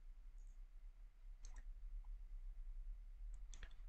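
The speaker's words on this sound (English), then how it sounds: "So I'm going to select it, click on delete." A few sharp computer mouse clicks sound close and quiet while a web banner is selected and deleted, coming in two small clusters over a low steady hum.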